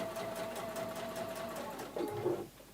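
A sewing machine stitching runs steadily and quietly for nearly three seconds, its fast rapid needle clatter continuous with a faint hum and a slight change near the end.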